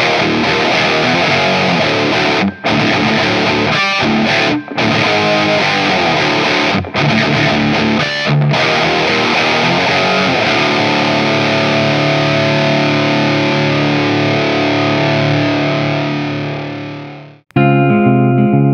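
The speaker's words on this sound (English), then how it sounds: "Let's do some super heavy crunch and then some clean tones." An electric guitar plays heavy crunch distortion chords, loud and sustained with brief gaps between strums, the final chord ringing out and fading before a new attack.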